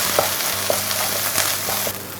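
Onion and tomato sauté in a hot pan, giving a continuous close sizzle broken by a few light scrapes and taps of a stirring spoon, with no talking.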